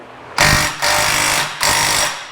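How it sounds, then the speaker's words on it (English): A small impact gun fitted with a 17mm socket hammers at a stuck bolt on an Arctic Cat Prowler XT650, firing in three loud, close rattling bursts with short pauses between them, no talking. "don't have enough oomph in my little gun there to break that loose to start with"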